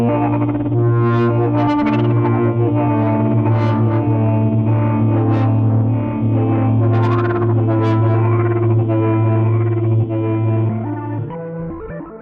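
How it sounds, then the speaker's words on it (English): A Moog Matriarch synthesizer plays sustained, distorted chords with bright repeating delay echoes that trail on after the keys are released, loud and alone, before fading at the end. "It's not until this completes the envelope when you release the key that you get the funny delay sound."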